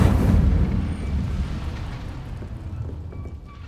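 The Incendio fire spell goes off in the video game Hogwarts Legacy: a loud, close burst of flame that roars at once and then fades over several seconds, with no talking.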